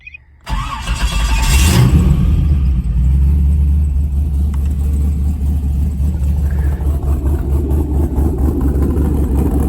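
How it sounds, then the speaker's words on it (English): A Factory Five GTM supercar rated around 525 horsepower cranks and fires up, then settles into a loud, deep, steady idle that rumbles on close by. "So I'm going to go ahead and start it up."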